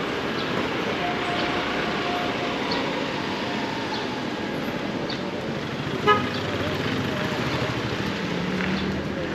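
A bus rumbles in close amid busy street traffic and sounds one short honk partway through as it arrives at a stop, with engine and road noise steady throughout and a voice faintly audible.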